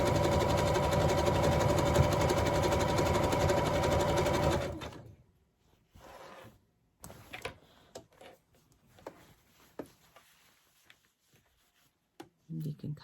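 A sewing machine zigzag-stitches along the pocketed edge of a pillow slipcover, running fast and steady for about five seconds before stopping, followed by scattered clicks and handling noises.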